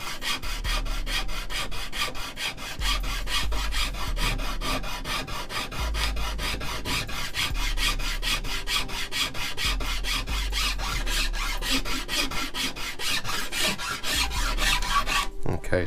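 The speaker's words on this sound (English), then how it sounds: "So I'm just using the file side of this rasp here." Steady rhythmic rasping as the file side of a rasp works yew longbow wood, close and continuous with even back-and-forth strokes and no talk.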